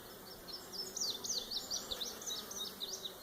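Close, continuous buzzing of honey bees at an open morning hive, with faint bird chirps twittering in the background throughout.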